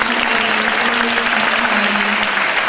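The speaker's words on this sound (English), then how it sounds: "let's give them a big round of applause" An audience claps loudly and steadily at a fifth-grade winter school band concert, a dense sustained round of applause filling the hall from start to finish.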